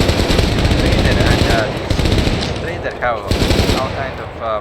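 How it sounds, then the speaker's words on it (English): Loud, dense automatic gunfire from weapons in the online shooter Stay Out (Stalker Online), rapid bursts rolling nearly continuously with a few distinct sharper shots near the end. "gunshots is one of the very nice addition to this game, because they are very specific of each weapon"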